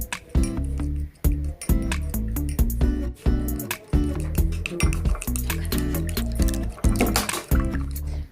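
Beaten egg is poured and stirred into a simmering chicken hot and sour soup, with wet liquid splashing and repeated metallic clinks of a utensil against the pot, close and steady.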